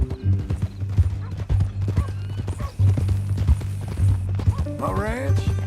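Horse hooves clip-clop steadily in Red Dead Redemption 2, an even walking rhythm under men's conversation, with a neigh near the end.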